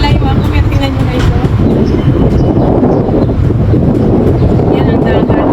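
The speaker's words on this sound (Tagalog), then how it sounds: "Ang hangin pala." Strong wind buffets the microphone in a steady, roaring rush by the sea, loud and continuous throughout.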